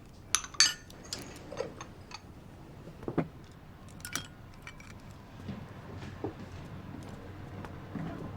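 Bowls and chopsticks clinking at a family dinner table, a scatter of light sharp clicks and taps, a few close and clear, others faint, spread irregularly through a quiet room.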